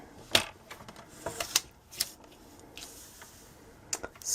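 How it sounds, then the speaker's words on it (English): Scissors or a rotary cutter trim the edges of a quilt background, making faint, sparse snips and crisp cutting ticks at close range in a quiet room. "now we will definitely trim off this side and then we'll trim off some from the top"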